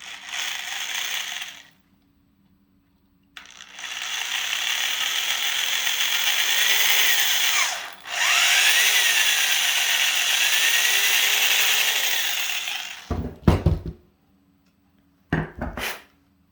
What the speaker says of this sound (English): you hold this in a pliers like that and you drill it out